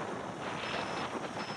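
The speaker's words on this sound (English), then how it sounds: "Look at her fight that wind." Steady, fairly faint wind roar buffets the microphone of an Eachine Falcon 180 drone in flight outdoors, a continuous broadband rush with no voices.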